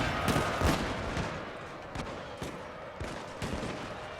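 Musket units open fire in Shogun 2, producing a crackling volley of overlapping shots followed by scattered individual reports against a busy battle din.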